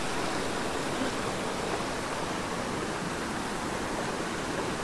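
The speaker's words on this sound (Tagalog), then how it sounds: "Kasi yung tunog ng pagbagsak ng tubig talagang napakalakas." Tenogtog Falls waterfall roars in a steady, dense wash of falling water, loud and continuous throughout with no talking.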